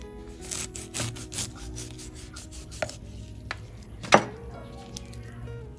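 Long yard beans being cut into small pieces for a Thai bean salad: irregular, close knife thunks and brief rubbing scrapes, with no voices.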